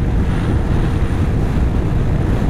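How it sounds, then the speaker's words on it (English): An Arctic Cat Thundercat snowmobile riding on snow behind a big windshield, a loud, steady rush of wind and engine roar close to the rider, unbroken for the whole moment. "Giving the Thundercat a try here with this big windshield. Man, is this sled smooth."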